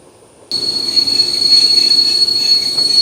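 Tourist train on the Bar–Podgorica railway beside Lake Skadar, wheels squealing loudly and steadily on the rails after a sudden start, a constant high metallic screech over rumbling carriage noise.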